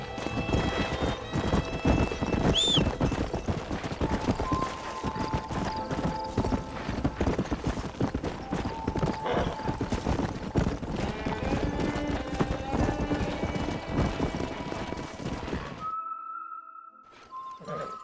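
Steady clip-clop of horse hooves at a quick trot in the video game Red Dead Redemption, close and continuous, with a brief whinny and a faint whistle before the hoofbeats stop.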